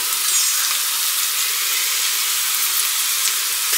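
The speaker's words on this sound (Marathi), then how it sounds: "जेवढं हलक्या हाताने फिरवता येईल तेवढं करते" Poha is stirred gently in a pan over a very low flame, making a steady, close frying hiss with soft stirring and no voices.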